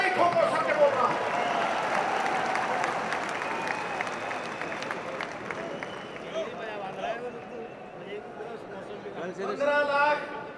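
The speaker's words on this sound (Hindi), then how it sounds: "ठोको ठोको ताली ठोको" Audience clapping at a Congress party convention, a crowd applauding loudly at first and then tapering, mixed with murmuring voices and some chatter, swelling again briefly near the end.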